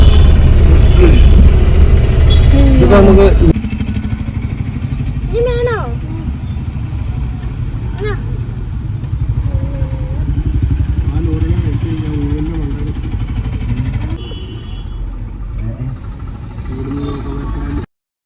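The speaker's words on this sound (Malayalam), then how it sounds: "വണ്ടി പോകുന്ന വഴിയെ പോകുന്നു." A vehicle drives along a road, its steady low engine and road rumble running throughout, loudest at the start and then continuing under people talking.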